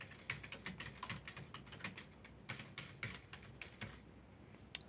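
Steady typing on a computer keyboard, a fast irregular run of close, crisp key clicks with small pauses, heard alone with no talking.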